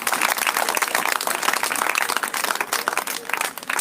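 A church congregation at a prayer and deliverance service claps steadily and enthusiastically, a dense, continuous wash of many hands with no pause.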